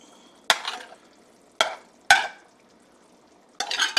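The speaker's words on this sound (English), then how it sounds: "Time to add the fish and the shrimp." Catfish and shrimp dropped into a simmering gravy for a catfish and shrimp courtbouillon, four separate splashy bursts of stirring and sizzle close by, with quiet pauses between them.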